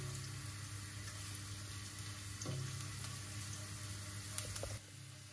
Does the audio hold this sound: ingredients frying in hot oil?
yes